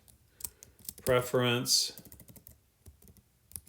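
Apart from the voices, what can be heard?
typing on a computer keyboard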